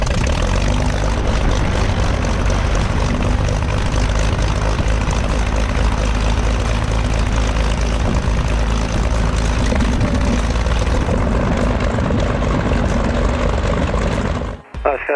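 Small propeller airplane engine running steadily at close range before flight, a loud, constant droning hum that holds for about fourteen seconds, then cuts out abruptly at the end.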